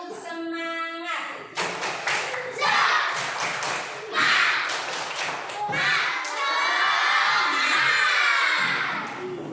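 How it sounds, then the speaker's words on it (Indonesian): Schoolchildren in a classroom perform a rhythmic spirit clapping chant, with bursts of claps and taps mixed with shouted chanting voices, loud and close, in several rising phrases. "Tepuk semangat."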